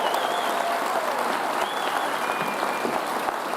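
Sustained applause from a large commencement ceremony crowd, a steady wash of many hands clapping at even volume throughout, with faint whistles or cheers rising above it.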